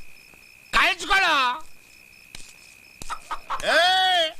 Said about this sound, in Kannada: ಆ ಕಡೆ ಹೋಗ್ಬೇಡ, ನಾಟಿ ಕೋಳಿ ಐತೆ